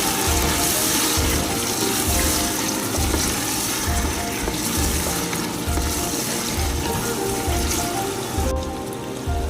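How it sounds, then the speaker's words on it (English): Olives are stirred in a pot for olive rice, giving a continuous wet, sizzling clatter with a rhythmic scraping pulse from the spoon, close and steady throughout. "Stirring the olive."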